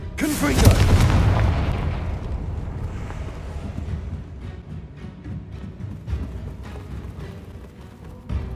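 A Bombarda spell goes off in the Hogwarts Legacy video game with a loud, deep boom near the start, followed by a long rumbling, crackling tail that slowly fades, with faint voices underneath.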